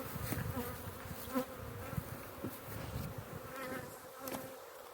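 A dense, steady drone of many honey bees buzzing together at a hive during a foulbrood test, close and continuous, with no voices.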